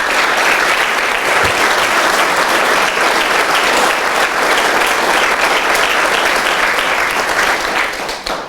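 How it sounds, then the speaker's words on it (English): An audience at a Doane Hall of Fame induction applauds Bernard Brown with a loud, sustained round of clapping that holds steady throughout and tapers slightly at the end. "let's give a big round of applause to Bernard Brown."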